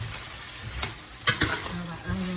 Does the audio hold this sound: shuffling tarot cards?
no